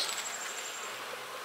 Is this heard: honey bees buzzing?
yes